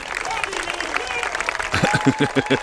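Crowd clapping at a high school softball game at Concord High, a brief spatter of applause heard behind a voice over a loudspeaker, with a few louder claps toward the end.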